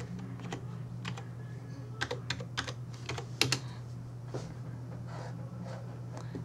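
Typing on a computer keyboard, a quick irregular run of close key clicks in bursts over a steady low hum, with no talk.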